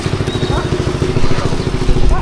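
Motorized farm machine engine runs in a rice field during planting, a rhythmic low chugging putter at mid distance, steady throughout with faint voices beneath.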